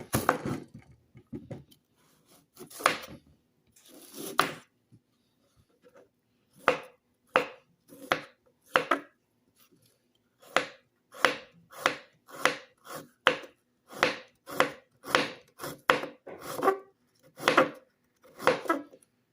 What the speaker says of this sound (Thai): เดี๋ยวเราจะมาทดลอง หั่นผลไม้นะครับ